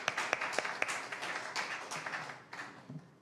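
Audience applause for Professor Jeong Jin-young at a youth forum in Ulsan: a moderate patter of distinct claps, brisk at first and gradually thinning and fading out.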